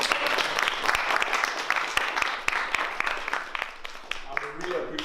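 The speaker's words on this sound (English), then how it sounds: "Can we just clap for Robert again?" Applause from an audience for a speaker at a church discussion, dense steady clapping throughout with some voices mixed in underneath.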